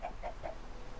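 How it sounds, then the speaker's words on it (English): Chickens cluck in the video game Minecraft, three short, evenly spaced clucks that are quiet and close, with no talking. "Eggs, please. Chickens."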